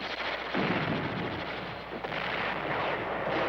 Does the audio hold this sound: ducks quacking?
no